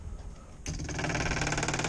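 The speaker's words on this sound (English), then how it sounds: "It's just a little fuel pump I put in there with some fittings. And you can hear it now." Small electric fuel pump, fitted with fittings, circulating fuel through Racor filters and back to the tank, starts after a quiet lead-in and settles into a steady, close, rapid mechanical whir with a fast pulsing rhythm.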